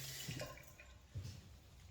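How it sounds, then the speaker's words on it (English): Tap water runs faintly while gel cleanser is rinsed from hands at a sink, with soft splashing swells that rise and fall in two gentle surges against a quiet background. "And just keep adding water."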